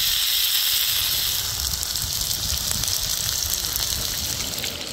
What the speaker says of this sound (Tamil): இங்கே பொறிச்சிட்ருக்கோம்,